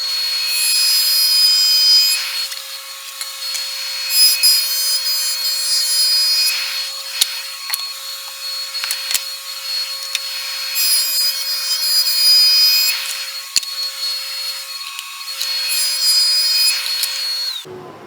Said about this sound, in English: set the dado up and done a test cut to make sure the measurements are what I want